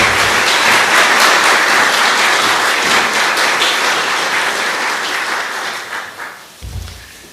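Audience applause at a Constitution Day event welcoming a judge: dense, loud sustained clapping from a room full of people, gradually thinning and fading away near the end.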